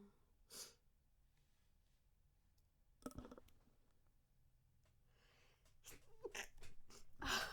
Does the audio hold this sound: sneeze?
yes